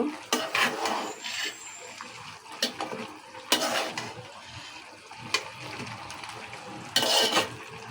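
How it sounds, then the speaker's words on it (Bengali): Rohu fish cooking with wilted Malabar spinach in a pan, stirred with a utensil: intermittent scraping and clattering strokes over a soft, wet sizzle, close and without talk. "শাকটা কমে গেছে, এখন নাড়া দিলাম।"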